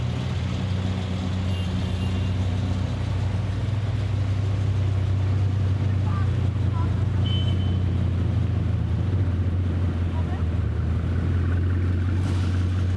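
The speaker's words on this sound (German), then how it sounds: "Da kommt der nächste Bugatti Chiron." A Bugatti Chiron supercar passes at a fuel station, a steady deep engine rumble running throughout with little change in level, no clear pass-by peak.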